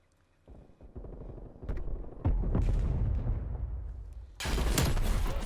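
Game gunfire and booming blasts build from scattered shots into a dense, loud, sustained barrage, with a sharp burst of bright crackling near the end and no talking.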